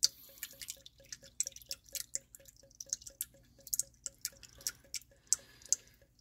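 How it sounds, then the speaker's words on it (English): Oil dripping from a car's drain plug opening during an oil change, a steady series of small, close drips falling in an irregular rhythm, with faint low background hum and no talk. "once it finishes dripping here, we'll get this drain plug reinstalled and move on."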